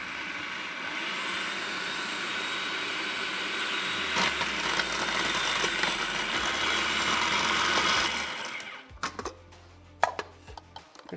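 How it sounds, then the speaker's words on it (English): Food processor grinding T-bone steak into burger meat: a loud, steady whirring roar for about eight seconds, then sharp chopping clatter and scattered knocks as it stops and is handled. "I'm gonna grind this up in batches. That way we don't overload the food processor."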